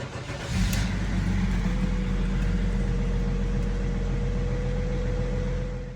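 A car engine cranks briefly and catches, then settles into a steady, close idle hum that runs evenly for several seconds with a faint whine above it, no talking.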